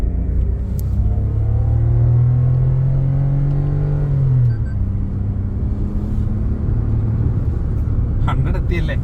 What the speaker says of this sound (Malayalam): നമുക്കിത് ജസ്റ്റ് ഒന്ന് ത്രോട്ടിൽ കൊടുത്ത് നോക്കുകയാണ്.